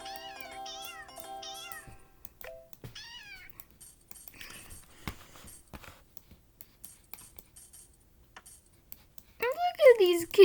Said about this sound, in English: Look at all these gosh dang cats.